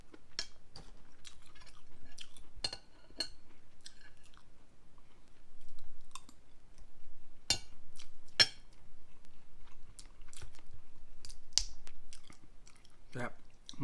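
Someone eating crab with rice, with close, crisp chewing and crunching bites and occasional clinks scattered irregularly over a quiet background.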